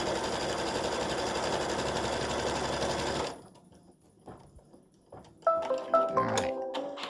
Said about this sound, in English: it's just stitching, putting a stitching line for the center